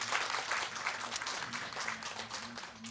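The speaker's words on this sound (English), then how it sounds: "And yes, a round of applause will follow as well." An audience at a discussion festival claps in a steady, moderate round of applause, close and continuous with no talk over it.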